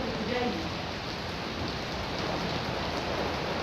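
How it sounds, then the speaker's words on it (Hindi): Heavy rain pours down steadily in Lahore, a dense continuous hiss of drops drumming on surfaces, close and even throughout, with faint voices in the background. "तो बारिश बहुत तेज़ हो रही है"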